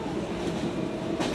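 A local train runs toward Sealdah during a protest ride, heard from inside the carriage as a continuous low rumble of wheels and car noise with faint background voices, and a louder swell near the end.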